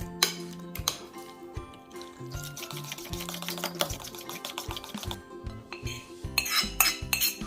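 Pardulas filling with yeast being mixed by a utensil in a bowl, close rapid clinks and taps of metal against the bowl in irregular bursts, with a brief louder scraping flurry near the end.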